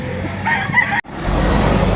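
A rooster at a poultry market in Lipa, Batangas gives one short crow amid steady market bustle, followed by a broad rumble of nearby vehicle noise.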